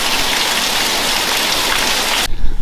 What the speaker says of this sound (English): more rain. Yes, it's wet season.